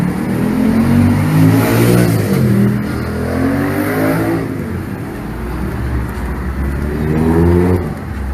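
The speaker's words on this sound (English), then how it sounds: "Got a motorcycle here, man." A motorcycle engine revs up and down in rising and falling sweeps, loud and close outdoors, steady throughout with no talk audible.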